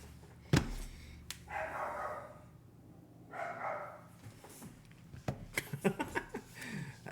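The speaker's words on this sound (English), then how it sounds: "That's the old dog." An old dog barks indoors, heard through a shut door: a sharp single bark, then stretches of muffled yapping and a quick flurry of short barks near the end, with no talk.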